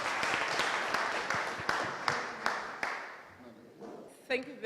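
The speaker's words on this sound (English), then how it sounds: "Let's give a round of applause." Audience applause at a closing address, a dense wash of clapping that thins out toward the end, with a few louder individual claps standing out.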